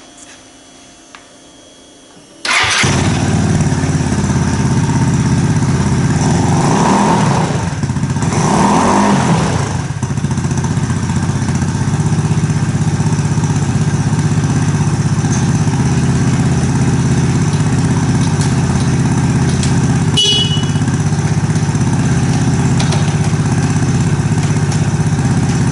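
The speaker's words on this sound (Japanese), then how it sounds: "とりあえずエンジンかけてみますか。" A Yamaha Cygnus X scooter in a motorcycle shop for recall work starts after a quiet moment, then idles loud and steady for over twenty seconds, with a brief revving swell early on.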